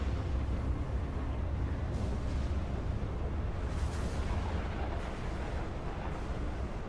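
A violent storm in the S.T.A.L.K.E.R. GAMMA video game gives off a continuous deep rumbling roar with heavy low end and faint crackling swells, loud and unbroken for the whole stretch.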